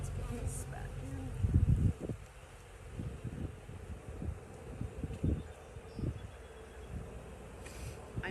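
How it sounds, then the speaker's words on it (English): Bees buzz around an open hive during a split nearby, against wind noise and rustling, with thumps and handling sounds and an occasional louder swell of buzzing. "I might shake some extra bees in there"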